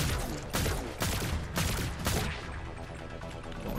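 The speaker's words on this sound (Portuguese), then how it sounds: "Deixa eu dar mais um tiros aqui." Gunfire in the zombie shooter game Zombotron, four evenly spaced sharp bursts about half a second apart, followed by a lingering rumbling tail, with no voices.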